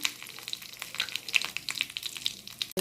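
Tempering spices crackling in hot oil for a cucumber-seed chutney, rapid scattered pops and spits over a soft sizzle, close, ending with a sharp clatter.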